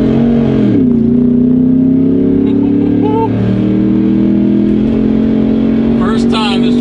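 A pickup truck engine drones steadily at close range on an abandoned superspeedway oval, its pitch dipping then holding as it cruises along, with a brief rise near the end.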